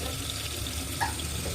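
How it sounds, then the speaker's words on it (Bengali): Tap water runs steadily into a child's water pistol, a constant close hiss of flowing water with no voices over it. "দিচ্ছি জল ভরে দিচ্ছি, জল ভরে দিচ্ছি, দাঁড়াও জল ভরিয়ে"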